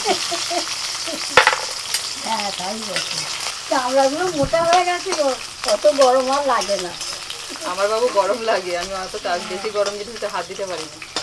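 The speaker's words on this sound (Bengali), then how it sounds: "এবার ওই তেলের মধ্যে দিয়ে দিচ্ছি রসুন" Garlic going into hot oil for a Bengali garlic bharta, a soft sizzle and frying hiss running under near, continuous talk from a woman and others, with a sharp clatter near the start.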